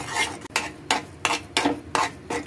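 Semolina stirred into boiling sugar water in a pot, about six rhythmic scraping strokes of a spoon against the pan, close and clear with no talk.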